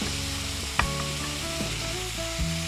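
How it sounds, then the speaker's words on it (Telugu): Ginger paste sizzling and frying steadily in a pan while a spoon stirs it, with a few scraping knocks against the pan over the constant hiss. "ఇది ఒకసారి బాగా కలిపేసుకోవాలి. అల్లం ఆ పచ్చివాసన పోయేదాకా కలుపుకుందాం."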